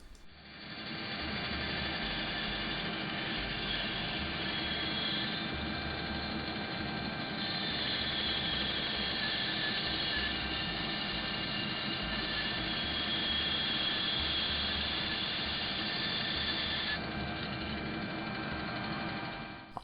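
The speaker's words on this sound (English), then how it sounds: "cut it down on the bandsaw" A bandsaw runs steadily while cutting a piece of timber for a bread knife handle, giving a loud continuous whine with a slight pulsing hum underneath throughout.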